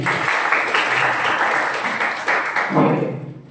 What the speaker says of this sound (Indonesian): Tepuk tangan dulu untuk Albi